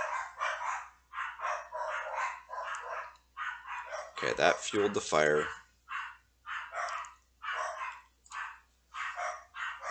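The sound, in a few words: dogs barking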